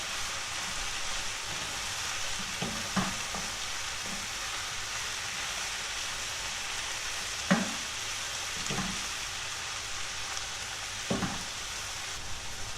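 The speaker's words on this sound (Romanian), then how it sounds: "Când ceapa s-a înmuiat, adăugăm ardeiul. Amestecăm și mai lăsăm 5 minute." Onions and bell pepper stirring and frying in a pot of chicken stew, a steady soft sizzle with a few sharp scrapes and clatters of a spoon at irregular intervals.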